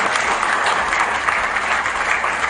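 Participants at the African Mining Indaba conference break into applause, a full, even roar of many hands clapping from a large room, steady and fairly loud.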